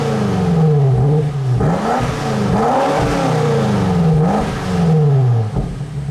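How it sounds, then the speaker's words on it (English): BMW X5M Competition, a 2020 600-horsepower SUV, revving loudly with its sport exhaust active: a series of sharp rising and falling throttle blips, roughly five rev swells in quick succession, close and with no talking. "Push it, and it activates this car's sport exhaust, which of course sounds pretty good."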